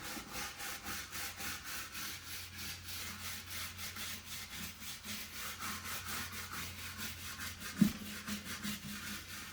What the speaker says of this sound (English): Start polishing,